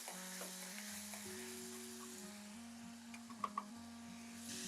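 Finely chopped tomatoes hit frying onions and green chillies in a pan, giving a steady moderate sizzle with a few light stirring clicks, no voices.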